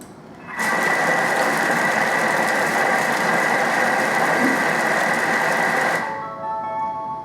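Thermomix blade chopping capsicums and tomatoes at speed 4, a loud steady high whirring motor that runs about five seconds with a sharp start and stop, followed by a quieter lingering hum.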